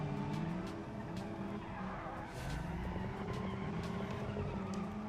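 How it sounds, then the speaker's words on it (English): Engine roar and sustained tire squeal as a race car power-drifts around corners in the Destruction Derby video game, loud and continuous with shifting engine pitch throughout. "Power drift around the corners."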